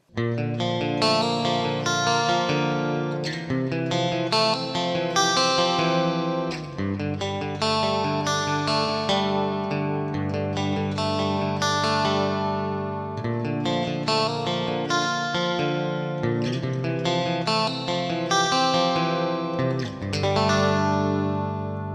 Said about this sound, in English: see if I can get a bright DI kind of clean tone going